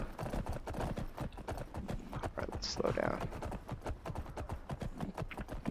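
Horse hooves clip-clop in a steady rapid rhythm in the Skyrim video game, continuing loudly throughout while someone talks briefly over them.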